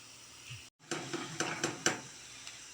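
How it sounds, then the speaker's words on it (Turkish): Onions and mushrooms sautéing in a home frying pan: a soft, steady sizzle with a few brief scrapes and clinks of a utensil against the pan, close and moderately quiet, with a short silent gap early on. "Soğanlarım bayağı bir kavruldu."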